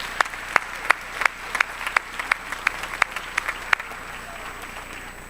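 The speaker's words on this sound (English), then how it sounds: "Let's give them a round of applause as well." Applause from a graduation ceremony audience: a steady wash of many hands clapping, with about a dozen sharper, louder claps standing out at a fairly even beat over roughly five seconds.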